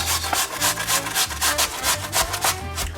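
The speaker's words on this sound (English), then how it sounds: "get yourself a cheese grater. You want to grate your potatoes" Potatoes rubbed against a cheese grater in a home kitchen while making potato latkes, giving rapid rhythmic rasping strokes, close and fairly loud, repeating about twice per second with no talk.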